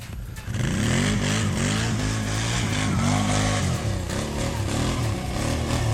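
A quad ATV engine revs hard and continuously as the machine slides sideways across a sandy slope, its pitch rising and falling in close, loud surges without any talk.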